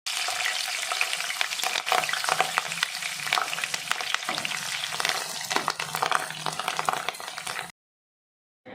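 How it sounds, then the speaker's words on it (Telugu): Cut green chillies frying in an oily pan for Bendakaya fry, a steady close sizzle with light stirring scrapes running throughout, then cutting off abruptly near the end. "అలాగే కట్ చేసి పెట్టుకున్న పచ్చిమిర్చీలను కూడా ఫ్రై చేసుకోవాలి"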